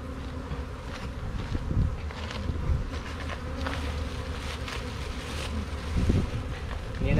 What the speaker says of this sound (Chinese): 蜜蜂满天飞啊，满脸的粘啊。